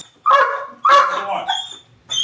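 A dog barks loudly and close by, two or three sharp harmonic barks with brief gaps, during an arrest scene with people around.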